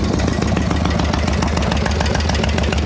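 A Shovelhead chopper's engine idles as it warms up, its hydraulic lifters gone slightly clattery: a steady, loud, close mechanical rumble with continuous ticking and clatter, running without voices.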